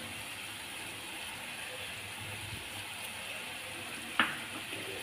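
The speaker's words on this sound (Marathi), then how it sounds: "आता हे सगळं आपल्याला छान तेल सुटेपर्यंत पुन्हा एकदा भाजून घ्यायचं" Egg curry masala with onion-garlic chutney, garam masala and salt frying in oil, giving a soft continuous sizzle with a single sharp utensil clink near the end.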